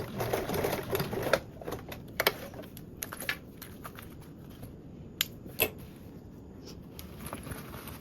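A sewing machine stitches fabric in a fast, close mechanical chatter that slows and stops, with scattered sharp clicks and knocks of the machine between runs.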